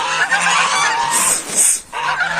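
Loud, close geese honking in overlapping bursts, a noisy flock calling together with a brief pause near the end.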